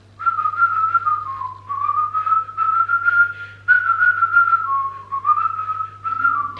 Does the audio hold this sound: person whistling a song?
yes